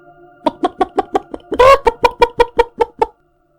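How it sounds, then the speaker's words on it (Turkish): A chicken clucks in a quick, evenly spaced series of about a dozen sharp clucks, with a louder drawn-out squawk partway through, close and clear with no talk. "Şimdi böyle bir dramın içinde o tavuk seslerini düşün."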